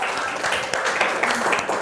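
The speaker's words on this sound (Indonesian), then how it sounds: "Tepuk tangan dulu untuk Galuh." Classroom applause for a student, a steady wash of many hands clapping together at moderate loudness, continuous and fairly close, without clear speech over it.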